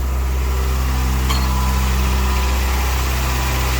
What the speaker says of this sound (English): that idle needs to come down